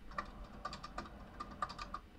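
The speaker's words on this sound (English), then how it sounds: "I'm just going to play the sound of me typing" Keys on a computer keyboard tapped in an irregular run of light clicks, fairly quiet and close, with no voices.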